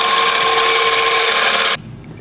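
A number 50 drill cutting a tapping-size bolt hole in a model steam engine part, a loud steady whine that stops abruptly near the end, leaving faint room noise.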